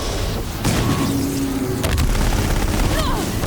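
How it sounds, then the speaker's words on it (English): Deathbringer machine turret in Horizon Zero Dawn opening fire, heavy booming bursts rolling over a dense, continuous loud roar of gunfire for several seconds. "Its fucking turret started shooting at me while it wasn't even facing towards me"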